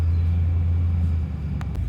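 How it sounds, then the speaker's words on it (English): A Ram pickup truck drives along with a steady low engine drone and road rumble heard from inside the cab, easing slightly near the end, with a couple of faint clicks. "That's because I'm driving the Ram today"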